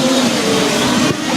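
A 1/5 scale RC race car runs at a national championship track final, its engine giving a loud, close, buzzing drone that holds a steady pitch and then dips briefly near the end.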